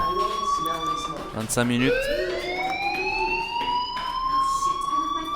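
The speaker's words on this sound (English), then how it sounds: "Hey, do you hear that fire alarm? That means you should be outside." A school fire alarm rings in the video game Life is Strange, a steady electronic siren tone with rising pitch, heard under a voice speaking.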